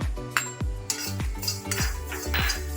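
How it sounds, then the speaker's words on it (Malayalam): Seeds rattle and scrape in a metal pan as they are stirred, with repeated clinks of a spoon against the pan over a light sizzle. "ഉലുവയെ നല്ലപോലെ വറുത്തെടുക്കുക."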